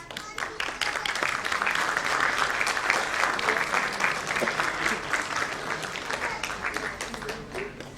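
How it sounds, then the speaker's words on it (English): A crowd at a school annual day event applauds in a loud, steady wash of clapping that holds for several seconds, with faint voices mixed underneath. "With a huge round of applause, please."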